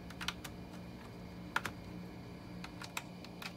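Keys on an external keyboard plugged into an ASUS X441UA laptop are tapped sparsely, with a few sharp, close clicks spaced irregularly over a steady low hum.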